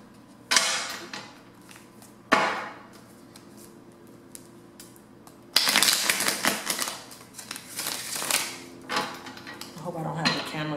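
Tarot cards being shuffled by hand produce sharp riffling bursts and flutters, close and fairly quiet, with several separate snaps early and a longer busy run of shuffling later.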